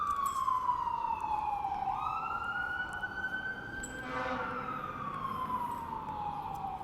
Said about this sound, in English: Let me let these sirens pass.